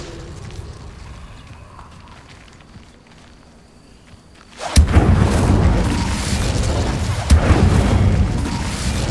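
A fire spell bursts with a sudden loud boom partway through, followed by sustained roaring crackle and a second sharp burst, in the Hogwarts Legacy video game.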